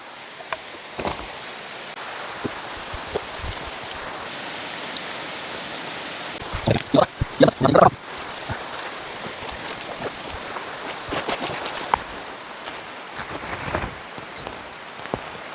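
Steady rain falls on a forest in Indonesia, a continuous soft hiss with scattered louder drips and splashes close by, heard alone without talk.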